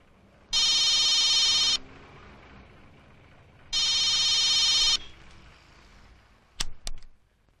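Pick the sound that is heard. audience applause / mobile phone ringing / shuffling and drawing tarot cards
mobile phone ringing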